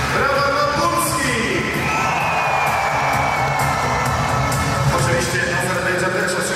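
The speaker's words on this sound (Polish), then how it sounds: "Brawa dla Polski!" A crowd at a volleyball tournament in Kraków cheers and applauds for Poland, loud and continuous, with shouts and whoops layered over dense clapping and voices in the stands.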